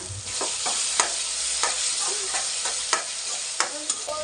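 Tomatoes frying in a pan with steady broadband sizzle, punctuated by repeated spoon scrapes and knocks as the mixture is stirred, close and continuous with no talking.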